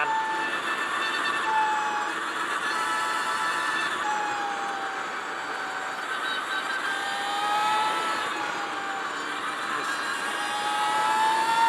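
An Energica Eva electric motorcycle ridden on the road gives a high motor whine that rises and falls with speed over a steady rush of wind.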